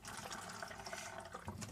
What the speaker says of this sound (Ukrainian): Додаємо туди воду.